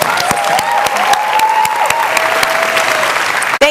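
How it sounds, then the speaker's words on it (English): A chapel audience applauds a campus pastor with steady, dense clapping that stays loud and even throughout, then breaks off abruptly at the very end. "let's give him a big round of applause"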